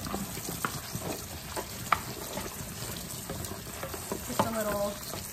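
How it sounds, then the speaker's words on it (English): Brussels sprouts rinsed in a colander at a sink, with a steady hiss of running water and light rattling of the sprouts as they shift, close by, with faint voice underneath. "it's very simple just to pre-wash these Brussels sprouts. I always put a colander on the bottom,"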